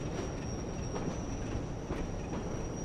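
Steady rolling rumble of a heritage train on the West Somerset Railway in Train Sim World 2020 as the brakes take initial application, with faint wheel squeal and a high whine running throughout.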